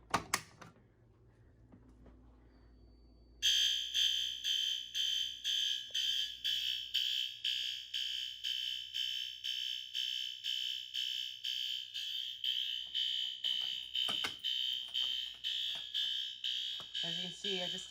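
After a few quiet seconds with faint clicks, a re-alarmed fire alarm system bursts on loudly and stays on, its shrill electronic tone pulsing in a steady repeating pattern, with one brief knock partway through.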